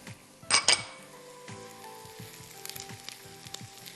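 Cumin seeds hit hot oil in a pot for Sindhi daal, giving a sharp, loud sizzling burst early on that settles into a steady crackling fry with light clinks of a spoon against the pot.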